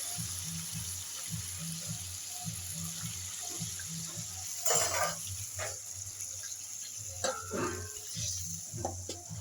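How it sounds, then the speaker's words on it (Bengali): Water poured into a pan of mustard-braised vegetables and small mourola fish while cooking pui mituli, a steady hissing pour and sizzle running near and alone, with a few sharper clatters midway. "এবার আমি জল দিয়ে দেবো"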